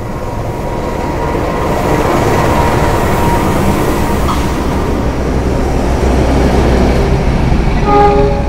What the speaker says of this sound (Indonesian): Yang masuk di jalur 3 adalah kereta api Taksaka.